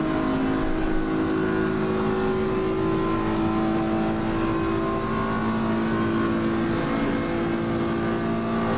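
A BMW GT3 race car closes in during a championship race at Paul Ricard, its engine a steady, droning roar with a sustained tone, heard at moderate distance throughout with no voices.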